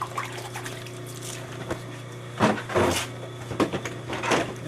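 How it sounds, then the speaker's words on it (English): Water dripping onto wet clay on a potter's wheel while a custom sink is thrown, heard as a few soft, brief splashy taps over a steady low electrical hum, with no talking. "Now I dripped a little water on there."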